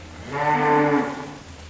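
A single sustained moo from a cow kept alongside Sahiwal cattle at a farm, loud and close, swelling in the middle and fading, with no talk over it.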